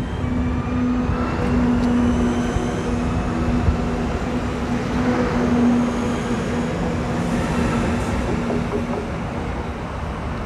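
A train pulls away from a station in Siegen, a steady loud rumble with a sustained hum running through the whole stretch and no talk over it.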